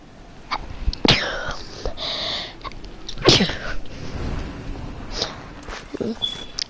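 A person sick with a cold sneezes loudly during a Fortnite game session, one sharp burst and then another, amid gameplay noise and talking voices.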